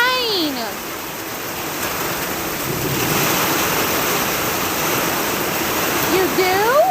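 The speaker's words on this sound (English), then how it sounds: "nothing but rain." Steady rain pours down in a dense, continuous hiss, loud and close throughout, with brief warbling tones at the start and end.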